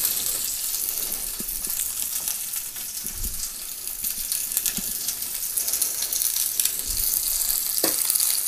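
Chopped onions sizzle and fry steadily in a hot pan, a constant hiss with faint crackles and occasional soft clinks of stirring, heard up close with no talking.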